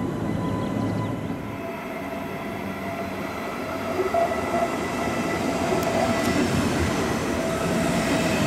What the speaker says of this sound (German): Hier fährt gerade der Eurocity nach Milano aus